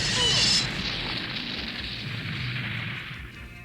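A big explosion destroys an island prison in a vintage Masters of the Universe audio story, a loud boom followed by a long rumbling roar that slowly fades, with no voices.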